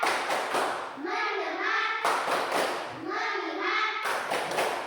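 Primary school children in a classroom clap in a quick rhythmic pattern and then chant together in unison, the clap-then-chant phrase repeating twice, close and lively.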